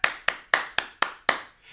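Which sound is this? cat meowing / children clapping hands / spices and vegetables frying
children clapping hands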